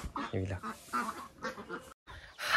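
Farm-raised ducks quack repeatedly near a forest path, nasal calls close to the microphone, mixed with a person talking over them.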